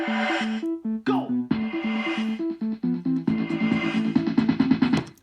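A Yamaha keyboard in DJ mode plays a call and response game, with short bright synth phrases answering each other over pulsing electronic beats that build denser and busier toward the end.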